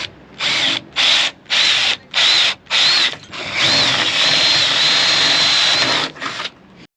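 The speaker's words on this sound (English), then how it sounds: "So it looks as if the old one is pop riveted on. So you need to drill those out." Power drill boring out old pop rivets on an RV, a loud nearby whine in several short bursts followed by one long continuous run before stopping.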